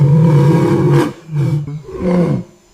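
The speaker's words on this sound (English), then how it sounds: "Their howls can travel up to 5 kilometers, piercing through the dense mist of the Colombian forest." A howler monkey in the Colombian jungle lets out deep, loud guttural roars in three drawn-out bursts, close and resonant, with no talk over them.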